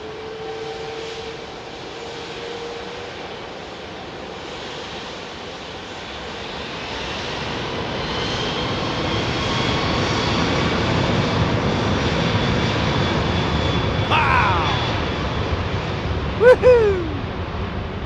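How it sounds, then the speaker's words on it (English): A Singapore Airlines Airbus A380 with Rolls-Royce Trent engines at London Heathrow roars on departure, its deep jet rumble swelling steadily from a distance and growing louder, while a spectator cheers and whistles briefly near the end. "Trent 8 is definitely the most aggressive engine, isn't it?"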